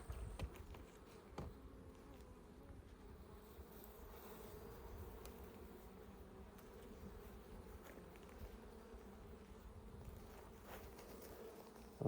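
Captured honeybee swarm in a hive, a steady low buzzing hum of many bees with occasional individual bees passing close, faint and continuous with no talk.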